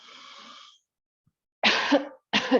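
Two sharp coughs during a gentle yoga session, close and loud, come after a soft breathy exhale and a short silence.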